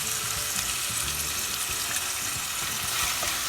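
Masala with turmeric and salt frying and being mixed in a pan for restaurant-style sambhar, a steady close sizzle with soft scraping stirs throughout, no talking.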